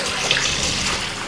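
Cold mountain water pours steadily from a small pipe on a trekking trail in Wayanad's Chembra Peak area, giving a close, continuous splashing rush with no talk.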